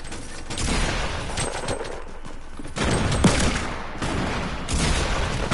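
Bursts of rapid gunfire in a Fortnite Battle Royale match, loud and dense in several waves, with no talking over them.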